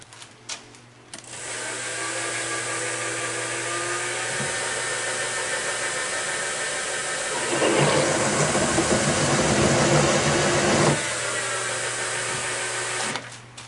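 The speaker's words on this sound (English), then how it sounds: "So now I'm going to chamfer this end." A power tool chamfers the end of a metal rod in a home workshop, giving a steady, loud whine that runs for about ten seconds and swells harsher midway as the cut bites, with no talk over it.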